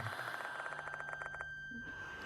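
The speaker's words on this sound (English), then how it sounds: "The sound of a bell suddenly echoes in my mind." A small bell rings in the video game Spirit Hunter: Death Mark 2, a rapid trilling series of faint, evenly spaced strikes that stops abruptly.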